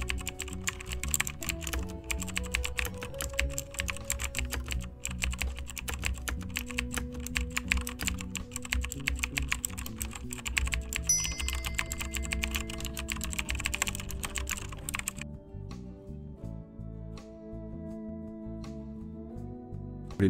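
Python code is typed on a computer keyboard in a fast, steady stream of close clicking keystrokes that goes on without a break and then thins to a few sparse taps near the end.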